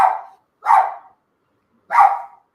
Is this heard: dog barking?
yes